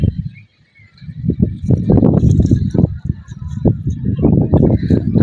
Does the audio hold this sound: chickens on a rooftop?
yes